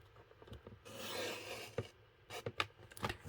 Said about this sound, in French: Je découpe ma bande.